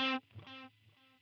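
Guitar repeats from a vintage digital delay at 24-bit depth ring out as a few spaced, decaying echoes of one clean note, each a little quieter than the last, with no voice present.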